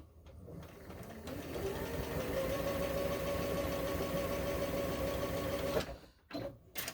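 A sewing machine stitches a seam in fabric, running in one steady, close whirring burst for several seconds before stopping, followed by a few light handling clicks.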